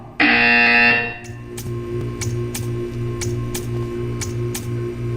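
A loud, harsh buzzer from the video game Portal sounds for about a second, then cuts off, leaving a steady hum with faint regular ticking clicks.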